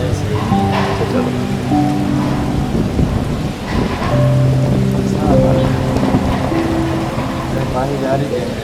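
Steady rain falls at the University of Karachi, a continuous loud wash of drops on surfaces throughout, with tonal voices or music-like sounds and people talking over it.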